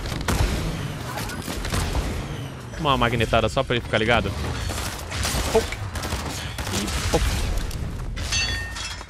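Gunfire in an online shooter video game rattles in bursts over steady background game noise, with a loud dense cluster near the middle, while players talk over it.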